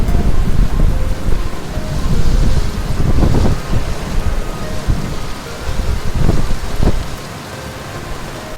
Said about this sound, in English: enjoying the summer rain shower